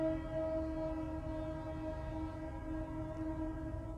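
A train rumbles past on the tracks at a distance, a low steady drone with a sustained horn-like tone over it, fairly faint.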